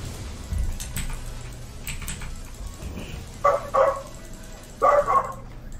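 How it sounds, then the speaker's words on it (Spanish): Several close, sharp dog barks come in two quick pairs near the end, loud against a low background murmur, with no talk. "se ponen aquí a ladrar los perros"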